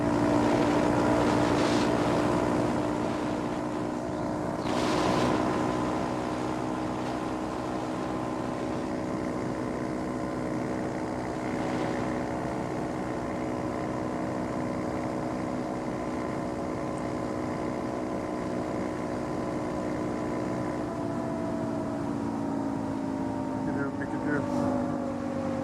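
A Honda Monkey motorcycle rides on a trail, its engine a steady droning hum with rising and falling pitch and wind rush throughout, under occasional talk.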